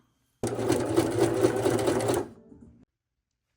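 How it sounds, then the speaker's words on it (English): A sewing machine stitches two pieces of fabric placed right sides together, running steadily for about two seconds and then winding down and stopping, close and clear with no talking. "2 pieces of fabric, right sides together and sew most of the way around"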